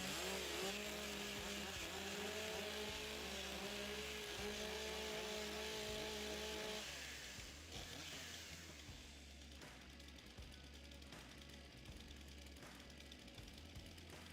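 Several STIHL MS661 chainsaws idle and rev together at a timber sports championship, making a dense, steady, loud drone that settles slightly lower about halfway through and continues without a break, with no speech.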